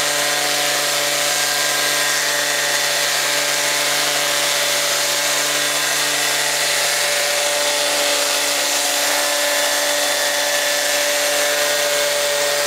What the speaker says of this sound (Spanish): funciona por la presión de la lijadora